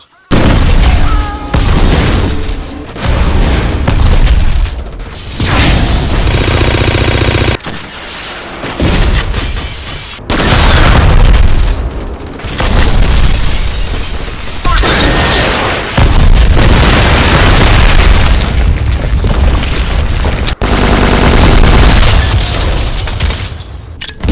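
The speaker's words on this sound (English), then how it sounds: "Each gun sounds like a freaking turret." Loud, dense bursts of gunfire and booming explosions from the 2006 game Black, nearly continuous with brief lulls, with a short voice surfacing between the blasts.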